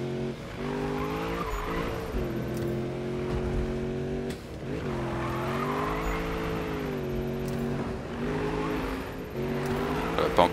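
Engine of a car drifting in Need for Speed, revving and sliding in long rising and falling sweeps with tire squeal, loud and continuous, a brief gear change mid-way.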